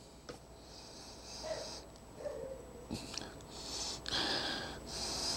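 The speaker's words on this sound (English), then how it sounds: "I'm trying to just sniff this out to tell you if these actually smell like marshmallows or not." Someone sniffs at a Peeps marshmallow-flavored Oreo cookie up close, a series of short nasal inhales and snorts spread across several seconds against a quiet room, with no talking.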